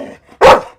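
A dog gives a single sharp, loud bark close by, preceded by a soft low whine.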